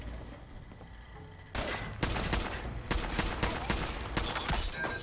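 Gunfire erupts in Fallout 4 after a quiet stretch, rapid repeated shots in dense rattling bursts continuing to the end.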